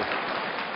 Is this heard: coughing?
no